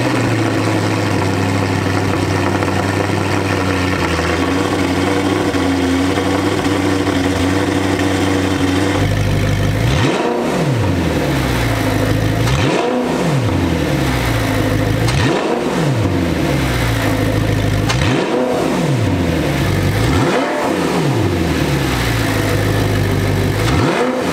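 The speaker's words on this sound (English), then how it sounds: "Let's do a bunch of revs." An Audi R8 with an aftermarket exhaust idles with a deep, steady rumble, then is revved repeatedly, rising and falling in about six loud, regular bursts.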